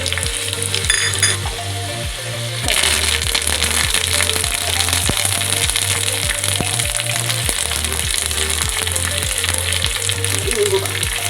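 Garlic, mustard seeds, cumin and dried chillies fry loudly in hot oil for a tempering, a dense continuous sizzle dotted with sharp popping crackles, close up. A rhythmic low thumping runs underneath throughout.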